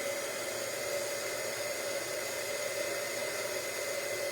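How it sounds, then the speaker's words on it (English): A heat gun blows steadily to dry mixed media paint, a continuous even hiss with a strong tonal hum, constant and close with no pauses or voices. "I'm going to use my heat gun. To dry some of this."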